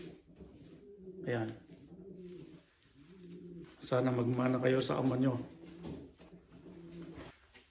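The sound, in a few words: racing pigeons cooing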